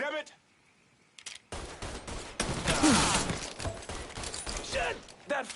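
A quiet lead-in gives way to a loud, close shootout in Mafia III, with sustained bursts of shots and shouting voices mixed into the clatter.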